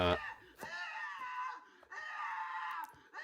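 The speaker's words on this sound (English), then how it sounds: "This person created a strawberry that screams whenever you cut into it." A novelty strawberry-shaped device lets out a loud, high-pitched scream when cut, two long wailing shrieks separated by a short break, close and clear.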